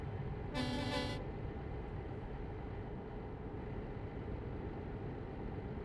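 In a truck driving video game, a custom truck's air horn gives one short, bright blast of under a second near the start, over a steady rumble of engine and road noise.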